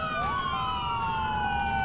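Police car siren in the LCPDFR police game, a wailing tone sweeping up and then slowly down, steady and moderately close over a low engine rumble.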